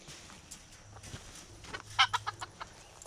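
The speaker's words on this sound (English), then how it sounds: "There's our big old rooster." Chickens and a big rooster inside a dog-proof backyard cage give a short cluster of clucks around the two-second mark, moderately close over a quiet outdoor background with a faint low hum.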